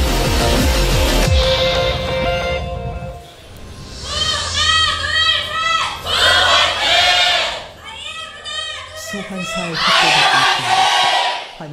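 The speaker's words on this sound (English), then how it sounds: "Big cheers from the IM crowd today." A large crowd of fans cheers and shouts loudly at a League of Legends esports match, KOO Tigers versus Incredible Miracle in the LCK; swelling waves of yelling and cheering fill the space with no talk in between.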